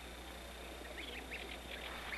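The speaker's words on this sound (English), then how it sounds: "The continual sounds between the researcher and the goslings is a form of reassurance" Goslings raised by a researcher give soft, high chirping calls in short bursts over a steady low background hum, faint and fairly close.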